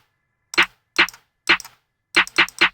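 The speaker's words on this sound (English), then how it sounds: "Now I'm gonna go ahead and get these snares." Snare drum samples from a sound kit are triggered in FL Studio, six crisp, bright hits in an uneven pattern, three evenly spaced and then a quicker run of three, each dry and sharp with a short tail.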